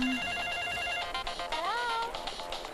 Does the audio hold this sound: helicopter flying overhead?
no